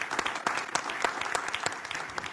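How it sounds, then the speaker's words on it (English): Audience applause after a panel session at a conference on financing low-carbon growth, a dense steady wash of many hands clapping throughout with sharp scattered claps standing out. "join me in applauding our panelists for a great session"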